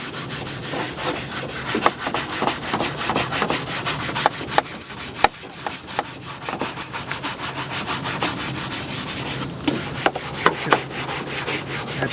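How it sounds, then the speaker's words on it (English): Brush scrubbing polish into the textured plastic surface of a Honda car bumper, steady rapid back-and-forth rubbing strokes heard close up, with a few sharper scrapes and no talking. "The brush is only there to get the polish back down into the pores."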